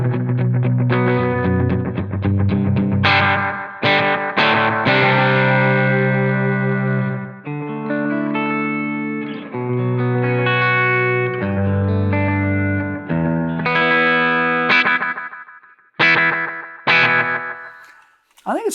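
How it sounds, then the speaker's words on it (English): Electric guitar played through an old Ibanez AD-80 analog delay pedal, with dark, soft repeats trailing a run of sustained chords and single notes, loud and close, ending in short staccato hits. "So here's an old Ibanez AD-80. It's a delay pedal."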